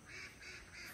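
Ducks in a rice field quack in three soft, evenly spaced bursts, distant and faint against quiet outdoor background noise.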